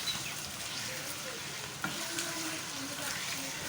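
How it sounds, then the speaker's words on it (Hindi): Chicken fries and is stirred in a pan for a chicken salan gravy, a steady close hiss and sizzle with one brief clink partway through. "फिलहाल चिकन को फ्राई कर लेते हैं"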